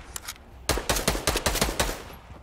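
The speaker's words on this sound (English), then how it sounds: "And then shoot him down." Gunfire in a building-and-shooting video game: a couple of faint shots, then a fast burst of six or seven loud, sharp rounds close together, with no voices over them.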